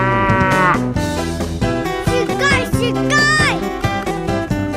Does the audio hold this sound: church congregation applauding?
no